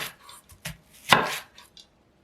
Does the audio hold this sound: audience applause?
no